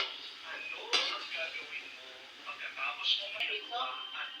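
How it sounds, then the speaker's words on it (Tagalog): A utensil clinks and scrapes in a cooking pot as potatoes are stirred, light metallic knocks sitting under ongoing talk nearby. "Haluin na naman natin ito."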